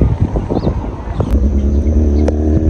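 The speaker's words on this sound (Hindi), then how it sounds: "ये कोई हैवी बाइक वाला आ रहा है," A heavy motorbike approaches and passes at a roundabout road in Al Ain, UAE, its low engine rumble building and holding steady and loud, with light rain beginning outdoors.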